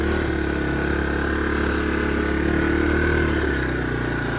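A Honda Big Red 250ES ATV engine idles steadily, loud and close, a constant rough mechanical drone with a faint irregular throb and no talking.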